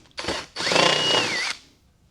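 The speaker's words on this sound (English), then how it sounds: "Here's my screwdriver." A cordless power screwdriver whirs in two short bursts, a brief spin and then a longer run with rising pitch, while fairings are fitted to a Honda MC22 motorcycle.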